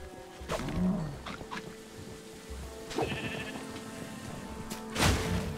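Cows in the video game Minecraft Dungeons moo and bleat in a few scattered calls over busy game background sounds.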